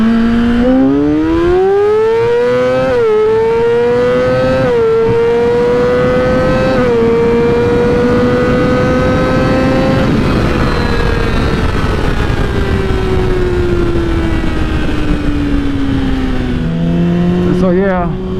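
A Yamaha R6 sport motorcycle engine revving hard, its pitch climbing in steps and holding a high whine for several seconds before easing down, loud and close throughout.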